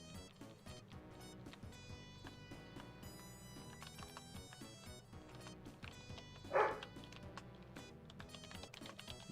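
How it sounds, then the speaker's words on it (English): A dog gives a single sharp bark partway through, rising briefly over steady tonal music and background sound. "My dog's upset."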